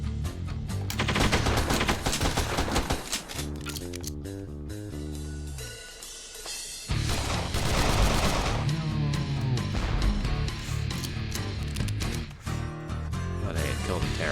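Rapid gunfire while shooting terrorists in the rare indie video game Bob the Schizo, loud bursts and volleys over game music, with a short quieter stretch midway.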